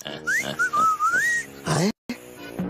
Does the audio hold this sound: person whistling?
yes